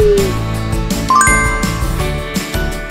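Bright chiming doorbell tones ring out in a short melodic sequence, clear and close, with tinkling bell-like notes layered over a steady backing, no voices.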